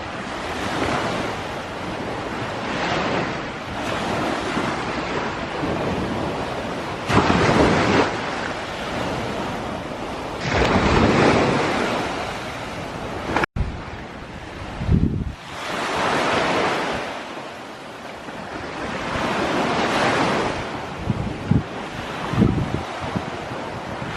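Sea waves wash onto the shore in repeated surging rushes, near and fairly loud, with gusty wind buffeting the microphone between breakers.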